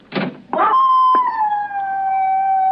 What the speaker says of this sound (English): Why don't you complain to the neighbors about that dog?